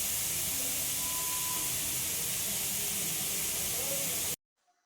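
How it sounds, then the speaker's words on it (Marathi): Grated carrots sauté in a pan for carrot halwa, giving a steady close hiss of frying that runs unbroken for about four seconds and then cuts off abruptly into silence. "तुम्ही बघू शकता इथं 5 ते 7 मिनिटं गाजर झालं परतून झालंय"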